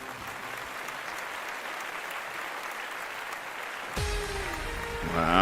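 Studio audience at a live webcast news show claps steadily and evenly for several seconds, a dense wash of applause that shifts in character toward the end.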